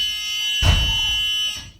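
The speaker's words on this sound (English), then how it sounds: "We'll check that the alarm on our door works." School bus emergency door alarm sounds a loud, continuous electronic buzz for just over a second, with a thump as the rear door opens, heard up close.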